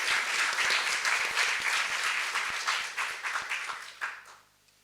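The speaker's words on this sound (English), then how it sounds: "can we just do one more round of applause for these phenomenal panel?" Warm audience applause for a panel at a roundtable on artificial intelligence and democracy, steady dense clapping that gradually thins to a few last claps before falling silent.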